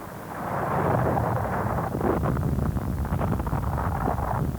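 Heavy artillery bombardment in World War II documentary footage: a steady, loud, low roar of rumbling blasts that runs throughout, with crackling texture and no voices.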